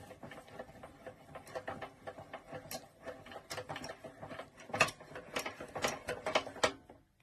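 Ratcheting mechanism of a We R Memory Keepers heavy-duty stack paper cutter, heard as a close run of irregular mechanical clicks, clacks and grinding with a few louder knocks near the end, and no voices.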